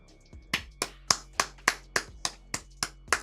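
Hands clap about ten times in an even, unhurried rhythm, close and crisp, each clap sharp and separate with no voices over them, during a live stream.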